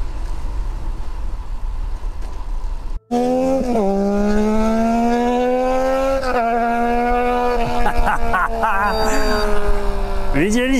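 A motorcycle passes on a scenic Orava road, its engine note rising and shifting in pitch as it goes by close and loud, heard by cyclists on the route, with a brief dropout before the pass and voices around it.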